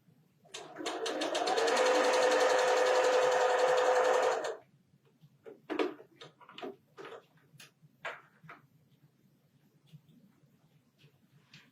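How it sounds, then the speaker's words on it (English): A sewing machine stitches quilt pieces together for a four-patch star block, a steady close whirring run of about four seconds, followed by scattered small clicks and handling noises. "I'm going to sew this last piece like this."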